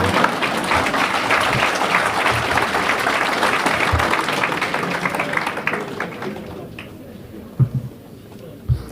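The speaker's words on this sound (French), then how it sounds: "on peut applaudir ça" A mayor's New Year ceremony audience in Seclin applauds with dense, steady clapping that fills the room for about six seconds, then thins and fades into a few scattered claps and quiet room noise.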